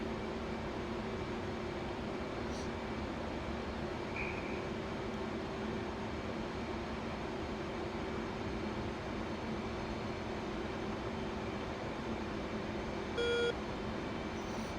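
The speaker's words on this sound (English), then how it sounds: "I just had a radar beep" A radar warning beep sounds inside the F/A-18C cockpit in DCS World, a short run of evenly spaced electronic tones arriving near the end over a steady, loud jet engine drone.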